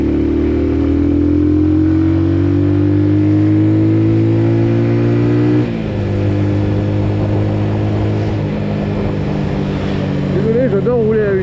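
A Benelli Leoncino 125 motorcycle hums along a road at a steady close engine drone, its pitch easing and then shifting as the rider changes speed, with someone talking over the ride.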